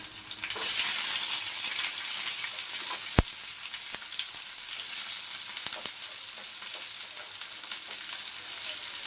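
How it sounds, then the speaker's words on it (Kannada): Onions sizzle and fry steadily in an oiled pan with curry leaves for tomato dosa, a bright continuous crackle with a single sharp click partway through and no talking. "ಇವಾಗ ನಾನು ಈರುಳ್ಳಿ ಹಾಕೋತಾ ಇದ್ದೀನಿ."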